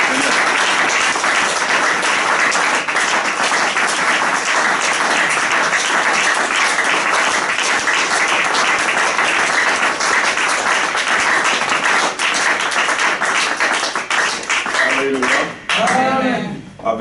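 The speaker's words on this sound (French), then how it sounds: "Est-ce qu'on peut acclamer très fort pour le Seigneur?" A church congregation claps and cheers loudly for the Lord, with dense, sustained applause and shouts throughout, ending with a voice speaking over the tail of the clapping.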